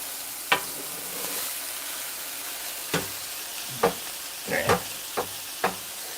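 Ground beef and onions sizzle steadily on a hot griddle with repeated scraping and clacking of a spatula as the food is moved around.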